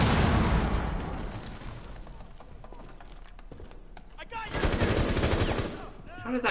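Bursts of gunfire and a grenade explosion in Rainbow Six Siege come in loud rattling clusters at the start and again near the end, with quieter shots in between and voices talking.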